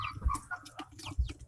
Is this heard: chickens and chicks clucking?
yes